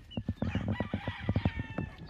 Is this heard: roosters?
yes